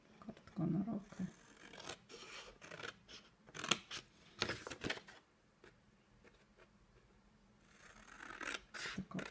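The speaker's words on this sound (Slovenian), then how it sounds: "Tako, odrežemo še zadnji in dobimo 4" Card stock cut by hand with scissors for an explosion box craft, several close crisp snipping strokes in irregular bursts with short pauses between them, fairly quiet and without speech.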